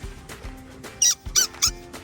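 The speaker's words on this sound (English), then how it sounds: "Are you playing with this squeaky toy, Maurie?" A pet gnaws on a squeaky toy indoors, the toy giving three short, bright squeaks in quick succession close to the mic, with soft chewing thumps between them.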